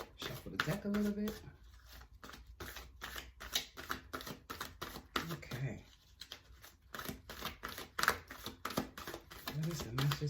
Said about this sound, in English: Shuffle the deck a little bit.